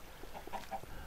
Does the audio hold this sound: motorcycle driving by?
no